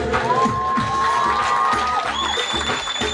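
Wedding crowd at a Turkish folk dance celebration cheering and clapping over loud live music with a steady drumbeat, shouts and whoops rising above the band.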